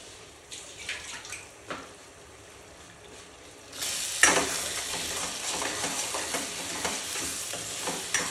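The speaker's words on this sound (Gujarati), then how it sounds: "હવે આપણે બધું જ મિક્સ કરી લેશું" Spoon stirring eggplant bharta (ringan no olo) after lemon and sugar go in, scraping and sizzling in a pan; quiet at first, then a louder steady stir-fry clatter and hiss from about the middle onward, with no talk.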